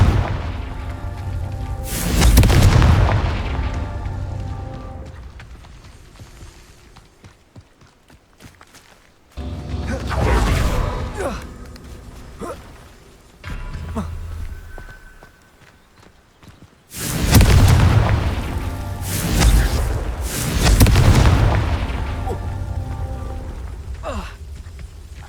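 Confringo fire spell blasts in the Hogwarts Legacy video game: three loud, booming explosions spaced several seconds apart, each with a rumbling tail, amid game effects and no talk.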